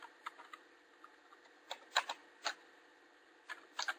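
Soft, scattered keystrokes on a computer keyboard, a few isolated clicks and short clusters of taps at close range, faint and with no voices.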